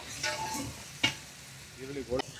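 Biriyani masala fries in a pan with a soft, quiet sizzle, broken by a sharp scrape or clink as it is stirred, and a brief voice near the end.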